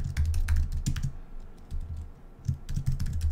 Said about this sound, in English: Forget my weird typing.